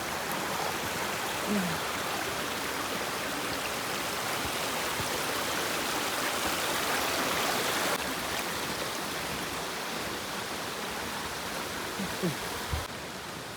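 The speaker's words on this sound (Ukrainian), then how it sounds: "Перший перехід річки вброд." A river is forded on foot in winter on a mountain hike, the rushing water a constant broadband roar with a few faint splashes from wading.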